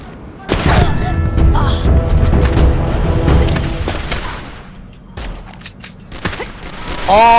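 Video game combat with a grenade blast followed by a burst of gunfire, loud booms and rapid shots filling the first seconds, then quieter scattered shots and a rising tone near the end, with a voice talking over it.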